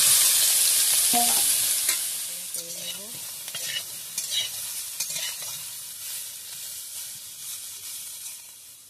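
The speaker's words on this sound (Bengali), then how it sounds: "এবারে আমি ডাঁটাটাকে ভালো করে তেলে ছেড়ে ভেজে নেব।" Drumstick stalks frying in hot oil in a home kitchen, a loud steady sizzle that slowly softens, with a few metallic scrapes and clinks of stirring near the start.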